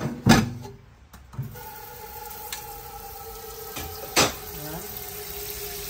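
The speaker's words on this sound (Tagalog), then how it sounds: "Lagyan ko na ng tubig." Tap water runs into a cooking pot in a kitchen in bursts, with a few knocks and clatters between the flows, close and moderately loud.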